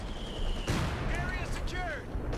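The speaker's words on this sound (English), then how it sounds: "with a 155 barrage coming down" 155 artillery barrage landing in the video game Company of Heroes 2, a sharp blast followed by scattered impacts and whistling shells, heard under someone commentating.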